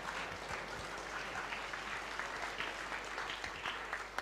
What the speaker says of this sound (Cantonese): 咁我哋都俾啲熱烈嘅掌聲歡迎我哋今日嘅嘉賓